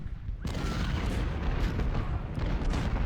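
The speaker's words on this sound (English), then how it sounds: "But I hope our bombardment is able to soften up the enemy quite effectively." Artillery bombardment in Ultimate General: Civil War, Union guns including 10- and 12-pounders, makes a continuous rumbling barrage of overlapping booms at moderate loudness, with no voices over it.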